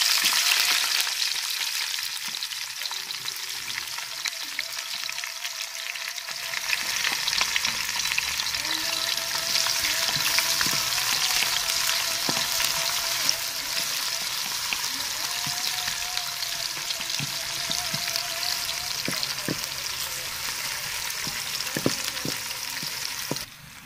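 Onions frying in a spoonful of ghee in a home kitchen, a steady dense sizzle with occasional stirring scrapes, continuous and close throughout with no talking.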